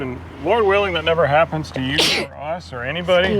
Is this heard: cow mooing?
no